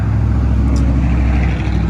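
Cars drive past outdoors, making a loud, steady low engine rumble that fills the whole stretch without talk.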